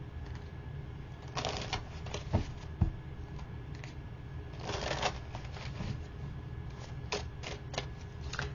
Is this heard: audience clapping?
no